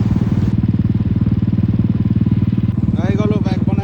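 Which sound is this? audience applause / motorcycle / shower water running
motorcycle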